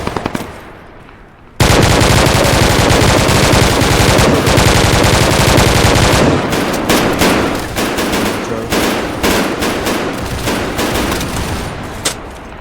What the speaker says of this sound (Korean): 우리 뒤쪽에서 쏜다